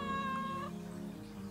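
An indoor cat lets out a single drawn-out meow, faint and close, with a low hum lingering after it.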